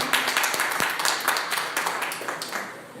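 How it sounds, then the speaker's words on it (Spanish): A church congregation claps in applause, a dense, loud burst of many hands that fades gradually over a few seconds. "Un aplauso al Señor."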